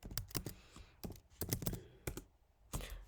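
Computer keyboard typing out a sort command in a terminal: quick clustered bursts of key clicks separated by short pauses, close and clear with no voice.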